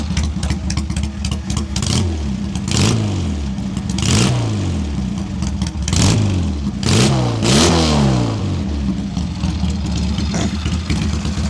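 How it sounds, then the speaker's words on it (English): A 1953 Triumph 650 pre-unit chopper motorcycle with an iron head and open pipes, revved repeatedly in loud close bursts over a steady idle, with no talk. "Really nice, smooth sounding engine with that iron head, insulates all the sound. And then it obviously sounds amazing with those pipes."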